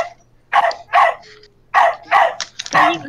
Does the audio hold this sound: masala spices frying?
no